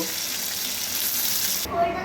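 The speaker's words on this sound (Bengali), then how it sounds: "মাথাগুলোকে একটু ভেজে নেবো" Turmeric-coated fish heads fry in hot oil in a kadai, giving a steady, close, dense sizzle that cuts off sharply near the end, leaving a quieter background.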